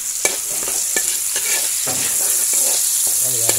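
Onion and garlic sauté in a hot pan while adobo with salagubang beetles is being cooked, a steady loud sizzle broken by repeated sharp clinks and scrapes of a utensil stirring against the pan, with no talking.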